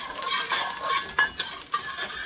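Chopped ginger and garlic aromatics stir-fried in a hot pan, a loud sizzle punctuated by sharp metallic scrapes and clinks of the utensil against the pan, with no talking.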